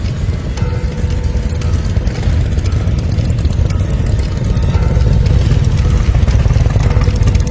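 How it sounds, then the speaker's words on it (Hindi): A motorcycle engine rumbles steadily in a village lane, its low drone growing gradually louder and closer over several seconds, with no voices. "मोटरसाइकिल की आवाज आई।"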